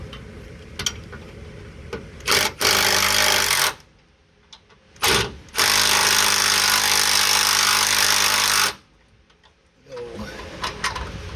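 Power tool loosening rusty lower control arm bolts on a 2003-or-later Panther-platform car such as a Crown Victoria or Grand Marquis: two loud sustained bursts of a few seconds each, close up, with quieter clatter between them.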